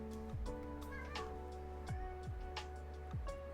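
In a card shop simulator video game, a cat meows three times in short descending calls, spaced about a second apart over a low steady background hum.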